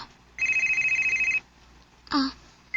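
A telephone rings with an incoming call, a close, steady trilling burst lasting about a second, followed by a brief second burst after a short pause.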